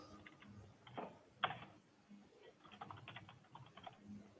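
Typing on an English-layout computer keyboard: scattered clicking keystrokes in short bursts, faint and close, with a louder clack midway and no speech.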